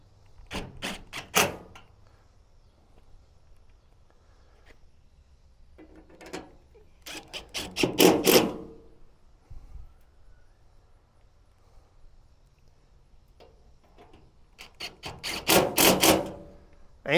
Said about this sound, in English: Now just put your 3 screws in there.